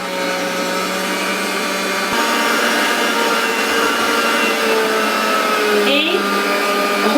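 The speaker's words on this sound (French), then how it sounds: "puis après, passer la viande dans le hachoir" An electric meat grinder whirs steadily while mincing ham, a loud continuous motor drone with slight shifts in pitch as the meat feeds through.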